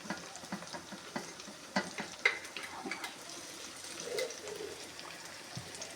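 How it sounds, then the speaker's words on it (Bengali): Two sausages fry in a pan, heard as a quiet, steady sizzle with a few soft stirring clicks and scrapes up close, and no voices. "একটু ভাজা হয়ে যাক, এখন আমি সসেস দুটোও দিয়ে দিব"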